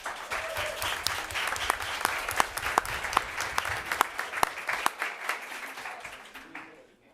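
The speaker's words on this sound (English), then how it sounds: "So round of applause." An audience at a school board of education meeting claps for several seconds, a loud burst that thins out and fades near the end, with some voices underneath.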